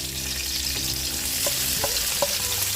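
Garlic sautéing in a pan while pork nilagpad is cooked, giving a steady close sizzle with several short scrapes and clinks of stirring near the end.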